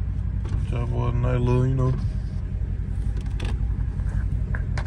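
Loud, steady rumble from a Dodge Scat Pack engine heard from inside the cabin while driving, with someone talking over it early on and the drone continuing alone afterward.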